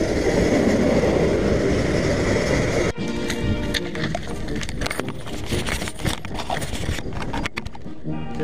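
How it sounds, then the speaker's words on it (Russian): Loud rushing noise gives way to a moving train's rhythmic clacking and rattling over the rails, close and continuous, with occasional voices. "Кажется, поезд едет."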